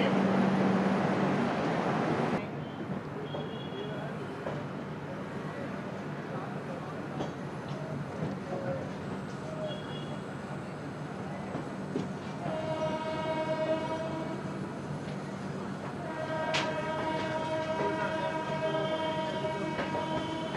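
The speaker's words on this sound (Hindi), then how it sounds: "2 मिनट के बाद डिपार्च ले ली है हमारी ट्रेन फिलहाल मिर्जापुर जंक्शन से।" Brahmaputra Mail passenger train pulling out of Mirzapur Junction after a two-minute halt, a steady rumble of the moving train with a horn sounding twice, a long tone and then a second blast, heard from inside the coach.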